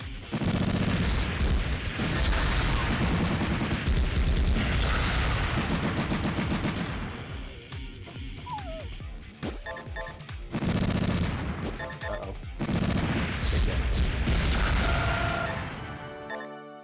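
Rapid gunfire bursts from the video game Metal Saga, loud and dense volleys of shots repeating in several clusters with short pauses between, no talking.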